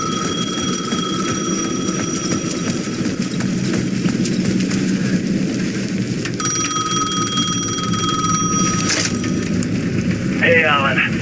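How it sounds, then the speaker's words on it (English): Payphone ringing at the edge of a plaza in Alan Wake 2, a repeated bright electronic ring sounding in bursts over a continuous ambient bed, with a short chirping sound near the end. "The payphone at the edge of the plaza was ringing again."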